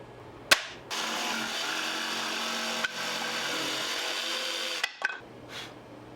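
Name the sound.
power tools working on wood slabs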